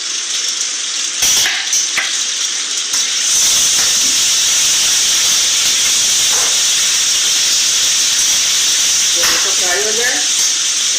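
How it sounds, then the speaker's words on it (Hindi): Onions lightly frying in a pan for a chicken dish: after a quiet start, a loud, hissing sizzle swells up and stays steady and close, with a brief voice near the end. "प्याज को हम हल्का सा फ्राई करेंगे।"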